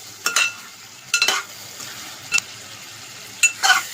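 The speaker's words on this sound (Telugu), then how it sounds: "ఒక రెండు స్పూన్ల కారము ఇలా కలుపుకుందాం" A spoon scrapes and stirs chili powder through a thick curry in a pan, four short bursts with quiet gaps, close by and without voices.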